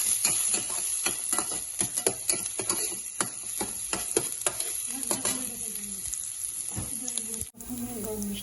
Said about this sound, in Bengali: এখন রান্না করতেছে তরকারি নিরামিষ